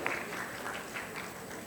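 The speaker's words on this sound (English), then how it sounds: "Please give a big round of applause for all of them" A conference audience at a national medical convention in Bhopal applauds in a soft, distant, steady patter of many hands, with no voices over it.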